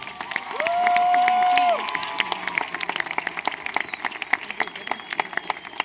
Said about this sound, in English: Let's all give these incredible students a big round of applause.